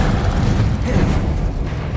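Incendio fire spell cast in Hogwarts Legacy, a loud, dense low boom with a rumbling burst that fills the whole two seconds without a break.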